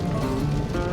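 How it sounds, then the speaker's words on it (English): Steady rain patters on surfaces outdoors on a wet day, a soft continuous hiss with no voices. "it's a rainy day"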